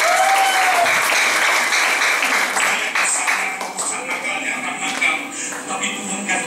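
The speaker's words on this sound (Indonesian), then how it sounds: "Boleh tepuk tangan buat Indonesia." An audience at a church testimony gathering in Indonesia breaks into loud sustained applause, close and dense, with cheers or voices mixed in and the clapping easing slightly toward the end.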